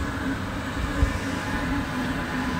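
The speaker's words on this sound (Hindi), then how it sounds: "रेलवे ट्रैक है, और ट्रेन जो है वो जाने लगी है।" A train pulls away from a station, a steady low rumble and rolling hum running the whole time at moderate loudness, with one brief thump near the middle.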